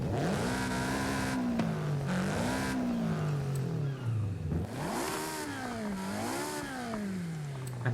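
Toyota GR86 engine in a video game, revving up and down in repeated rising and falling sweeps, a clear mid-pitched drone throughout with no talking.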